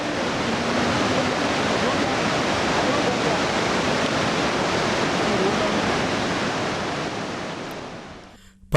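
Rushing river water flows below a rough, rocky mountain pilgrimage path on the route to Badrinath, a steady, dense roar that holds evenly throughout before cutting off abruptly at the end.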